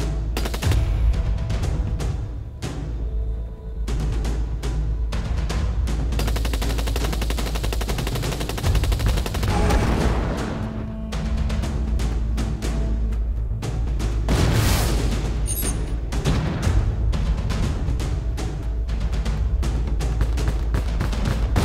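Rapid automatic gunfire from a drone in the mobile video game Drone 5: Elite Zombie Shooter, loud bursts with short pauses and occasional booms, dense and continuous.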